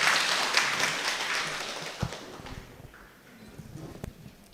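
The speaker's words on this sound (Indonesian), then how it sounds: "Iya, tepuk tangan dong." Congregation applause at a Sunday service of a GKPS church in Bekasi, a dense crackling wash of clapping that is loud at first and then fades away, with a few scattered claps near the end.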